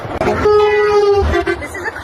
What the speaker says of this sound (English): so many people have been going by honking